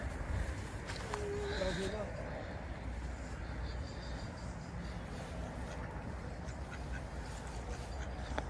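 Ducks quack repeatedly outdoors while being fed bread, with a family talking close by throughout over steady wind or background noise.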